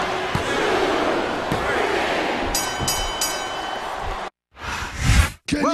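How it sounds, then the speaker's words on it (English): An arena crowd in the WWE SmackDown vs. Raw 2007 video game roars steadily at a Hell in a Cell match, a loud continuous wash with commentary voices over it, ending in a few abrupt cuts. "This capacity crowd is making their opinions known tonight."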